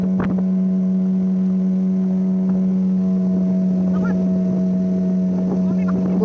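A speedboat runs across the water during a New Year picnic outing, its engine giving a loud, steady drone with a strong hum throughout and water noise over it.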